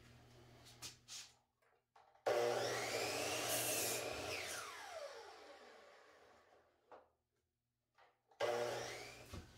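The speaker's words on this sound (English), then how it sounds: "we're going to take it on a table saw and we'll cut it down 1/2 inch wide" Table saw ripping wood strips into half-inch dividers for craps table chip trays, a loud sustained whine from about two to eight seconds with a rising and falling pitch, then a short burst of cutting again at the end.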